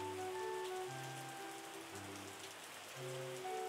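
Steady rain patters and hisses in the vineyard-management video game Terroir, a constant wash of drops under soft sustained background music tones.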